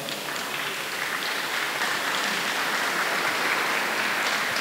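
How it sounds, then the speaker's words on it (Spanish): A church congregation applauds after a child's presentation ceremony, a steady rain-like wash of many hands clapping, fairly soft and distant, continuing evenly without any voices over it. "Gracias por esa lluvia de aplauso."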